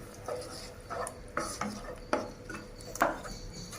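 A spoon scrapes and knocks against a pan while chilli sauce is mixed into garlic chilli prawns. Distinct clinks and scrapes recur every half second or so over a light sizzle, with no talking.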